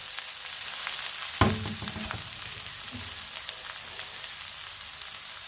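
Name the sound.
kalai greens frying in oil with dried chili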